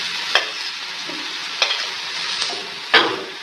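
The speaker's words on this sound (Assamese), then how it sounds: "গোটেই গ্ৰাইণ্ড কৰা বস্তুখিনি আমি ইয়াত দি আছোঁ এতিয়া তেলত" A ground paste of onion, garlic and ginger sizzles in hot oil for a banana flower masala, with a steady frying hiss broken by four sharp scrapes of a spoon stirring the pan.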